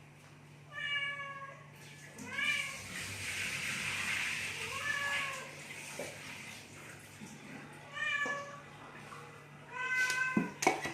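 A pet cat meows insistently in a run of repeated, drawn-out calls spaced across the clip, close and fairly clear, while a person speaks briefly in a kitchen with faint water sounds.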